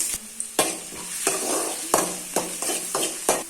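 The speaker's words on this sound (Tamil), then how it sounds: "இப்போ இதில் நான் நாலு மீடியம் சைஸ் வெங்காயம் போட்டிருக்கேன் இதை நல்லா வதக்கிடலாம்" Four medium-sized onions sautéing in hot oil, a steady sizzle broken by regular scraping stirs of a spoon against the pan roughly every half second, close and clear with no voices.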